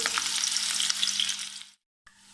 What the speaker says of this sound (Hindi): ऑयल हमारा गर्म हो चुका है, हम इसमें लहसुन डाल देंगे, प्याज डाल देंगे